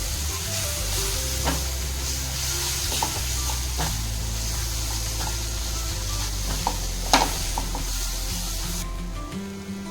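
Spices, Kashmiri red chili and paneer masala, being stirred and sizzled in a pan for dhaba-style butter paneer, with steady frying hiss and occasional scraping clinks of the spoon throughout.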